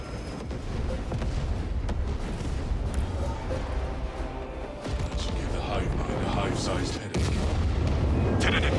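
A bomb detonates in Space Marine 2 within a loud, sustained roar of booming explosions and gunfire that fills the whole stretch, with voices talking over the combat.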